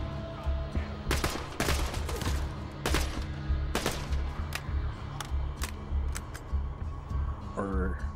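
Pistol shots in Borderlands 2, a series of sharp cracks spread irregularly over a quiet background, some fired in quick pairs, with someone talking between them.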